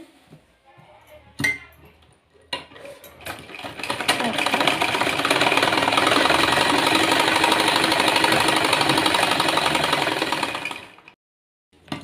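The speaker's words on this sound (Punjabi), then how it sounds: "ਇਹਨੂੰ ਆਪਾਂ ਇਸ ਤਰ੍ਹਾਂ ਕੱਚਾ ਕਰ ਲੈਣਾ ਮਸ਼ੀਨ ਦੇ ਨਾਲ ਸਿਲਾਈ ਲਗਾ ਕੇ" A sewing machine stitches kameez fabric, running in one steady, fairly loud burst for about seven seconds after a few brief sounds and a moment of talk at the start.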